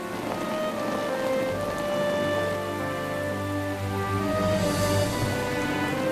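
Steady rain pours down without letup, a dense, even hiss of drops on surfaces close by, with no voices.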